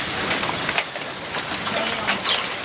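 Hailstones fall during a summer hail storm in Norwich, Connecticut, a dense, steady patter of hard hits with a few sharper, louder impacts standing out from the constant rattle.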